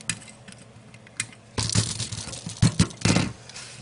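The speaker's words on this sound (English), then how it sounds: "I'll cut those leads off" Small clicks and snips as LED leads are trimmed off a kit circuit board, a few faint ticks early, then a louder burst of crisp cutting and clattering near the end.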